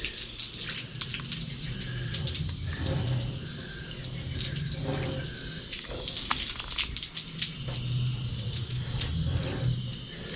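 A car is rinsed after a pipe-hitting pre-wash, giving a continuous close water spray hiss that swells and eases as the stream moves over the bodywork, with no speech.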